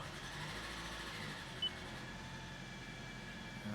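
A high-mileage Toyota Corolla engine idling steadily after starting up, a close, even hum with a faint whine running throughout.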